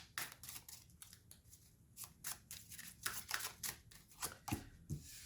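Tarot cards being shuffled and riffled in the hands in close repeated bursts, each quick crisp flutter falling back to quiet and then starting again, with no voices over the sound.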